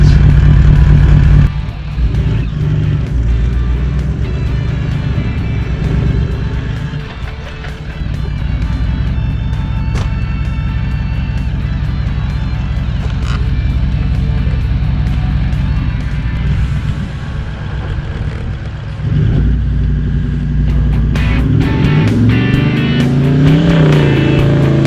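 A Nissan Patrol four-wheel drive labours through soft sand in Australia's Red Centre, its engine droning loud and steady with surges of revving throughout, close and continuous.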